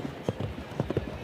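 A show jumping horse in a Grand Prix arena lands and canters on, its hooves thudding in a quick, uneven clip-clop rhythm at moderate distance, with faint voices in the background.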